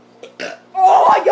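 A child lets out a long, loud, croaky burp close up, preceded by a couple of short throaty sounds and a brief voice.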